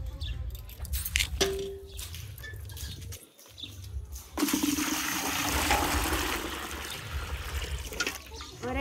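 Water pours steadily into a bucket with a continuous rushing splash that fills most of the clip, after a few scattered knocks and clatters at the start.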